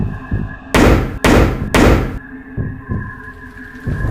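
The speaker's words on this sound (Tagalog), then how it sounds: "tatlong katok ulit." Three loud, evenly spaced knocks on a door, each a sharp broadband thud, with a low steady hum continuing after them in a quiet room.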